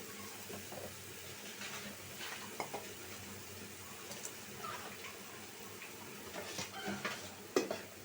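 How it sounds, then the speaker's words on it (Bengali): Spice paste fries in a pan for an ash gourd and shrimp curry, a faint steady sizzle broken by soft spoon scrapes and occasional clinks against the pot. "মশলাটা কষানো হোক"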